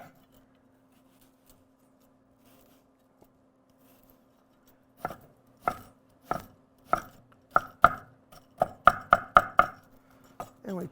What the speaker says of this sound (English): And just dice up your onion.